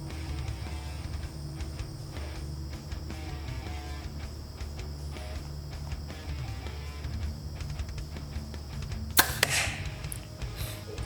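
An arrow tipped with a Schwacker Levi Morgan Signature Series mechanical broadhead strikes a cow shoulder, heard as one sharp loud impact late in the clip after a stretch of steady outdoor background noise, with no talk.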